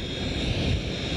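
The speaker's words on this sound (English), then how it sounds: "A Sabre jet." An F-86 Sabre jet roars past at an air show, a dense steady broadband engine rush filling the whole moment, loud and continuous with no talk.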